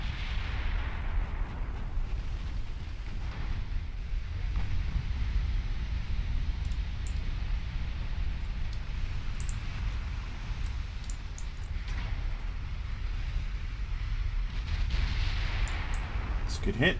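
Naval gunfire and shell hits rumble continuously in the Ultimate Admiral Dreadnoughts warship battle game, a dense low booming roar with scattered sharp cracks and impacts throughout.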